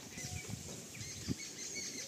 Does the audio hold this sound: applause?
no